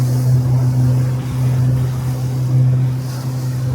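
A motorboat cruises on the Gulf of Orosei off Sardinia, its engine a loud, steady low hum with wind and rushing water throughout.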